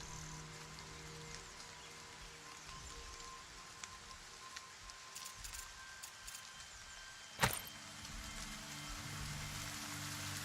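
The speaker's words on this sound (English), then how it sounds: "It's because of all the rain." Rain falling in the video game Nightingale, a steady faint hiss of drops across the whole clip with light taps scattered through it and one sharp brief knock near the middle, no talking.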